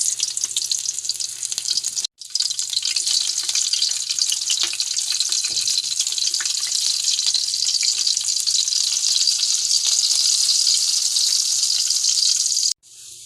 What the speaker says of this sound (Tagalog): At ngayon ay gigisahin ko na siya. Gigisa na natin siya.